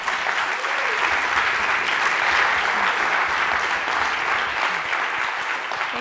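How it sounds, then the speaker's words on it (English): Steady, full audience applause after a talk at a user experience conference, many hands clapping at once with an even, sustained roar from start to finish. "Jennifer, on l'applaudit bien fort"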